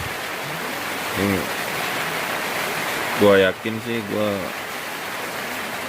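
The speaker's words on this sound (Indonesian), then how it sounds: "Suasana di luar masih hujan terus." Steady rain falls outside a tent on a mountain as a constant close hiss, with someone speaking briefly over it twice.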